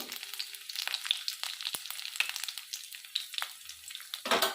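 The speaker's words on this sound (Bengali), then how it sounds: "রসুন দিয়ে দিলাম কালো জিরে কাঁচা লঙ্কা দুটো" Garlic, black cumin and a couple of green chilies sizzle and spit in hot oil with a close, crackling frying sound, broken by soft stirring scrapes and a louder hiss near the end.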